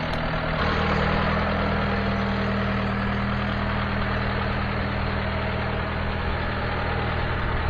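A tractor engine idling beside a grain bin on a farm, a loud, steady low rumble with constant tone, close and uninterrupted.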